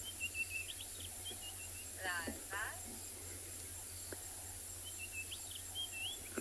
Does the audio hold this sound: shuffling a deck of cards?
no